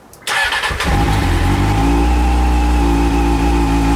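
Honda CBR600 motorcycle engine starting with the choke on: a brief cranking whir, then the engine catches and settles into a loud, steady, slightly raised idle, close by and alone.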